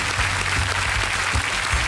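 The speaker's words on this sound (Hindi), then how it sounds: "तालियों के साथ इनका स्वागत किया जाए।" Steady, dense applause from a game show studio audience welcoming contestants, loud and even with no voices over it.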